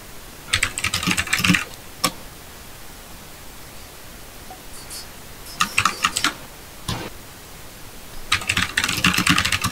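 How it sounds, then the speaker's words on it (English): Bursts of clacking on a computer keyboard come in several short runs separated by quiet pauses, close and steady over a faint hiss. "Mr. White, quit typing."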